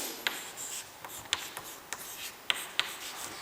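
A pen scratches out a name by hand on paper, a few short separate strokes with quiet gaps between them, close and faint in a quiet room.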